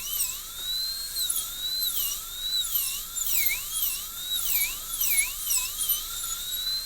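A dental drill burr grinds down a typodont tooth with a piercing high whine that dips and rises in pitch again and again as the bit loads and frees against the surface, heard alone and close.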